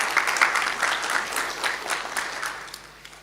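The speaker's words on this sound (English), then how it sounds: "Please, let's give a hearty clap to." An audience at a cardiac society scientific congress claps for a speaker, a moderate round of applause that fades toward the end, with no voices over it.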